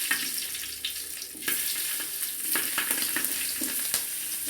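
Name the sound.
spiced salad vegetables lightly frying in oil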